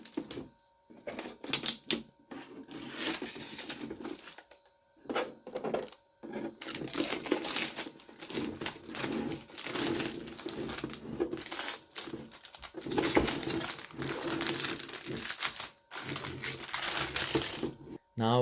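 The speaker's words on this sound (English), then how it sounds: "what we are going to do is to take out the tapes" Tape being peeled and pulled off a 3D printed Iron Man Mark III helmet, giving irregular bursts of crinkling, ripping and tapping with short pauses, close by and fairly loud, without speech.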